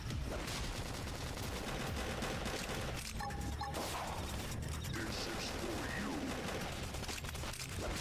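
A dense, loud burst of continuous gunfire and mechanical clatter from a sci-fi video game fills the whole stretch, with machine-gun rattle and impacts layered throughout.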